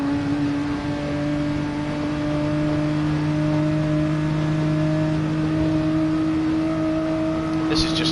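The engine of a race car at a Le Mans 2.4 Hours event drones continuously at a fixed, loud, humming pitch up close, ending in a brief sharp burst of noise.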